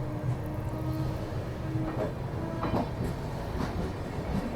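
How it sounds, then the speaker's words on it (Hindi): The 12329 West Bengal Sampark Kranti pulls out of Govindpuri station with a continuous close rumble of wheels and carriages, and faint rhythmic clacks run through the steady noise. "चलिए निकल चुके ट्रेन अपनी गोविंदपुरी से।"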